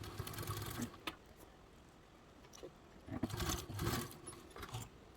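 Sewing machine basting shut the fabric pieces holding D-rings for a crescent-shaped bag, a faint mechanical whir and patter with louder surges near the start and end, low in level with some handling noise.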